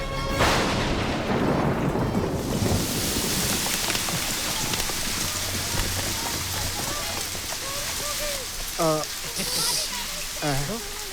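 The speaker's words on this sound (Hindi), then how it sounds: "ये तो बारिश हो गई।" Steady heavy rain pours down, a dense hiss with rumbling beneath, and a few brief voice-like sounds near the end.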